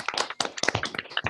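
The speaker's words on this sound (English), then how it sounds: "give a round of applause for our speakers for about 2 seconds" A handful of people clap together over a video call during a live Black History event, a short, sparse burst of separate, close claps with slightly compressed online quality.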